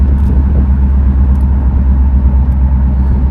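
A 1969 Oldsmobile 98 cruising at about 45 mph: a loud, steady low engine and road rumble heard from inside the car, with no talking.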